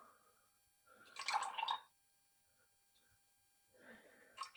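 Milk being poured into a container while making ice cream lollies, two short splashing pours separated by a quiet gap, close and fairly soft.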